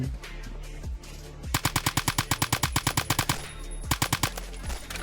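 A G3A3 battle rifle firing in Phantom Forces: a loud, evenly spaced string of punchy shots, about five per second, with a few scattered shots before and after against a game background.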